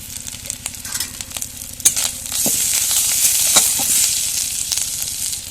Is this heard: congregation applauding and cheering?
no